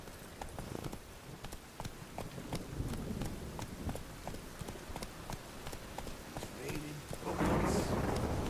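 Hooves of a galloping horse in The Witcher 3 beat in a steady clip-clop rhythm, mid-distance, with faint rain and thunder-like rumble behind, swelling into a louder noisy burst near the end.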